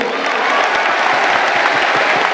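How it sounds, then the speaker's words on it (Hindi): A large crowd at a Hindu mass wedding festival claps loudly and continuously, a close, dense roar of hands with individual sharp claps standing out. "एक बात ताली बजाओ समझी को।"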